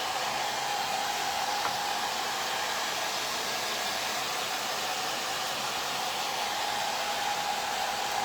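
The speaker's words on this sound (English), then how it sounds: "I'm gonna hit this with the dryer real quick" A hair dryer blows steadily and loudly at close range, drying chalk paint on a small wooden tray, with an unbroken airy roar and no pauses.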